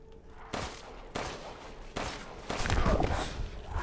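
Gunshots from Resident Evil Village in first-person play, with several loud broadband blasts at roughly even intervals building into denser firing near the end, set over a steady game background.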